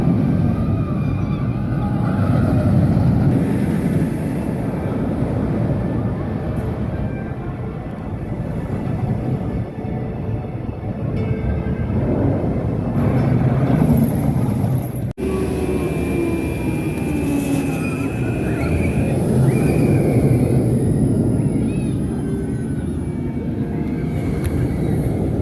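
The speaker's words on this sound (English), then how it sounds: "So we just had probably what was our roughest ride of the day so far in HYPERIA on row 7." B&M roller coaster HYPERIA at Thorpe Park ridden from row 7: a long, loud rush of wind and rumbling track roar with rattling and clanking, rising and falling in intensity throughout, close and continuous.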